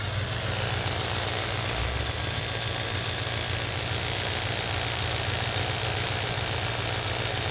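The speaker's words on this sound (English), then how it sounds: "Little rougher. Still has a miss. The miss is right off idle." Engine running at a rough idle with a misfire during an ignition coil test, a steady low rumble with uneven pulsing that continues throughout, close and fairly loud, with no talking.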